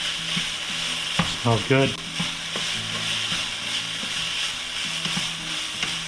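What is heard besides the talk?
venison meat browning and sizzling in a pan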